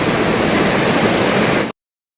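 Vyaghreshwar waterfall in Devgad, a 300-metre drop, sends down a steady, dense roar of falling water, loud and close, filling the whole short stretch before cutting off abruptly.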